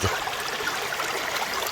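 Creek water runs steadily during gold prospecting on a spring day, a soft, even rushing and trickling that stays quiet and continuous with no other sound over it.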